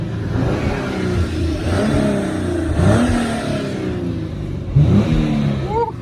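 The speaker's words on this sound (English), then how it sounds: "Rev it up a little bit." A 2015 Hyundai Genesis Coupe 3.8 engine is revved up close on a cold start, idling then rising in two or three quick throttle blips that climb in pitch and fall back.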